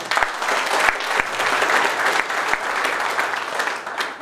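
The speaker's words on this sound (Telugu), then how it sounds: "ఆయనకు ఒకసారి క్లాప్స్ కొట్టాడు" An audience at a business opportunity meeting for e-bikes claps steadily, a dense, even patter of many hands that carries on throughout, fairly close and loud with no speech.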